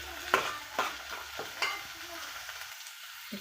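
Ivy gourd and onions frying in a pan while being stirred, several sharp scraping strokes of a spatula against the metal over a soft sizzle, quiet and close, with no talking.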